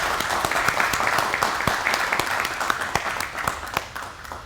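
Audience applause at the opening ceremony of the JFK PT-59 exhibit at Battleship Cove, a sustained, dense round of clapping from a crowd that gradually thins toward the end.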